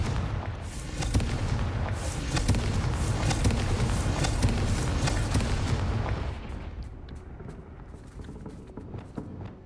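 A Confringo blasting spell explodes in the fantasy game Hogwarts Legacy, a loud, dense roar of booming blasts and crackling debris that holds for several seconds, then thins into a quieter rumbling tail.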